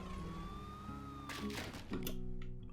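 Wailing ambulance siren from the Poly Bridge 2 video game as the vehicle crosses a bridge, a clear rising-falling tone followed by clattering and rumbling game sounds, with a voice briefly underneath.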